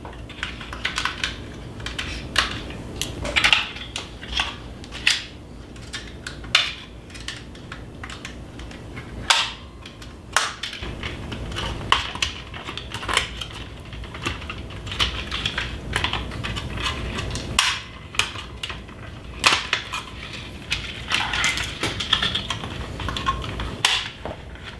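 A screwdriver pries open the tabs on a stove oven panel during a repair, producing scattered sharp metallic clicks and taps, some louder snaps among softer ticking, close and alone.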